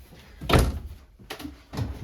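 An RV kitchen drawer in a 2022 Wildwood 28VBXL travel trailer is opened and closed, giving a couple of dull thunks and sliding knocks nearby in a quiet interior.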